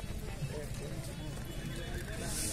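Horses at a crowded rural fair with trader tents, a whinny and hoof clatter mixed into busy crowd noise while people talk nearby throughout.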